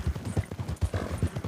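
A trained horse clip-clops at a brisk, even pace, with close hoofbeats falling several times a second. Faint outdoor background noise sits under the hooves.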